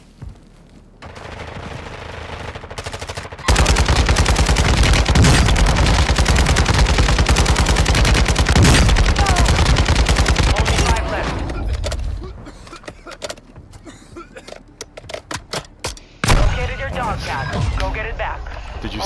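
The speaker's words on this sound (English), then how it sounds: "I killed four people in one fucking magazine." An RPK light machine gun in Call of Duty: Warzone Resurgence, firing a long, loud, continuous automatic burst, then shorter bursts and scattered shots amid game noise, with players talking over it.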